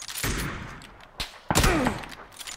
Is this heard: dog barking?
no